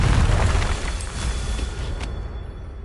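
A Confringo blasting spell goes off in a video game: a loud, booming explosion with a broad roaring burst that decays over about two seconds, heard alone.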